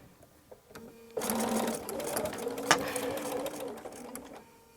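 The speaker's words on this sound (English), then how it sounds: "Come to the end and stitch off." A sewing machine stitches quilt fabric for a melon block quilt. After soft handling clicks, a close steady whirring run starts with a rhythmic needle chatter and then slows toward the end.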